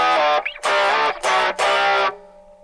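A cheap Temu electric guitar played through overdrive distortion, sounding thin and boxy: three or four fuzzy strummed chords in quick succession, each cut off sharply, with a short gap between them.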